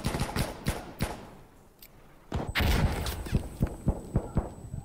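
A frag grenade explodes in Insurgency Sandstorm, a sudden heavy blast that rises out of a quieter stretch, set amid dense, loud battle noise with repeated sharp gunshot cracks before and after.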